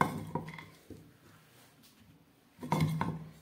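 Chopped cauliflower pieces are dropped into a bowl, giving a few light clattering knocks of florets against the dish. A sparse pause follows, then a louder cluster of clinks and rattles near the end, with no talking.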